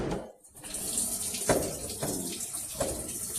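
A Whirlpool top-load washing machine fills with water through its inlet valve: a steady, close rush of flowing water with a few splashy surges, continuous throughout.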